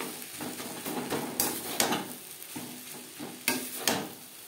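Bottle gourd peel stir-fries with grated coconut and chopped green chilli in a pan. A soft, steady sizzle runs under a few loud, sharp spatula scrapes and clanks against the pan.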